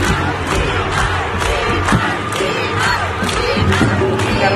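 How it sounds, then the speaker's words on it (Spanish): At a concert in Düsseldorf, a large crowd applauds and cheers with shrill screams and whoops, loud, dense and sustained throughout. "Merecidos esos aplausos,"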